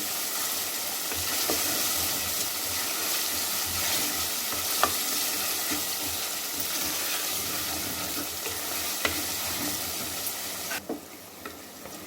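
Chicken with yogurt frying in a pan for a chicken curry, a steady close sizzle with occasional stirring scrapes and clicks, continuous throughout before dropping off abruptly near the end.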